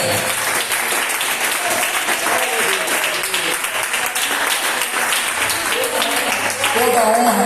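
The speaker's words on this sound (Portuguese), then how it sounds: "Um aplauso bem forte." Strong, sustained applause from a church congregation fills the room, a dense unbroken roar of clapping with voices mixed in throughout.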